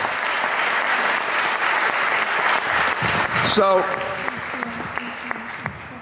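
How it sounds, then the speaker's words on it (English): Applause from an audience at a lecture event, sustained clapping for several seconds before fading, with a voice starting to speak near the end. "Please give her another big round of applause."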